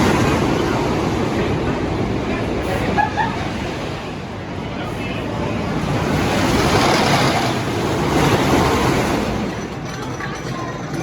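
A ride on the Twister, a wooden roller coaster at Knoebels, heard as a loud continuous rush of wind and rumbling track noise that swells and eases through the turns.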